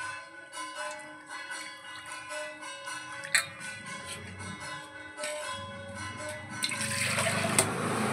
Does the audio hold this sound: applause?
no